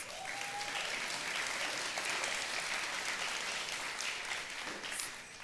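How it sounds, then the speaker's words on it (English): A crowd at a fireside chat event claps in a steady, even wash of applause that holds at a moderate level throughout without fading. "Please give her a round of applause."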